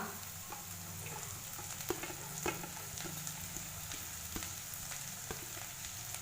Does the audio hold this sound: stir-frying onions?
yes